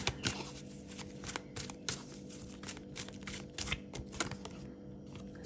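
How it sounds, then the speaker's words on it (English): Tarot cards shuffled by hand, a steady run of soft riffling flutters and crisp snaps repeating close up over several seconds, with no one speaking. "I'm shuffling the deck. You can hear it."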